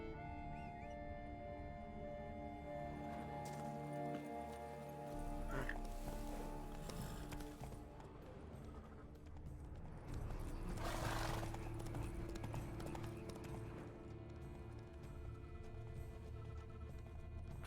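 Horse Roach's hooves clip-clopping steadily in The Witcher 3, a continuous mid-level gait beneath game music and ambience, with brief neighing touches.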